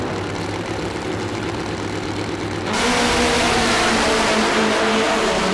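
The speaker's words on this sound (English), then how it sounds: "you've got funny bike against Top Fuel bike in this first round of competition" Top Fuel and funny bike drag racing motorcycles at Santa Pod roar loudly, a steady engine drone that jumps to a harsher, fuller blast halfway through as the bikes rev and launch.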